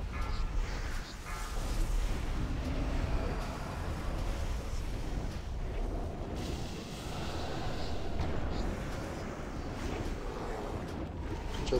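Explosions and spell blasts fill a video game raid boss fight, a dense, continuous rumble of booms and crackling impacts that churns steadily with brief swells, and faint voice chat sits underneath.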